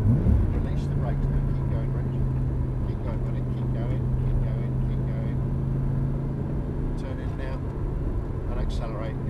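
A Lamborghini Gallardo on a race track at Prestwold, its engine droning steadily close by while an instructor keeps talking over it.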